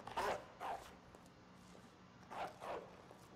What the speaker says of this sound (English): why didn't he bark before, though?